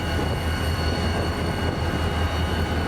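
Southern Pacific EMD SD40 diesel locomotive running nearby, a loud continuous low engine rumble with steady droning tones and rail noise, no voices.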